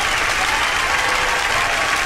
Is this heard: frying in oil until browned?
no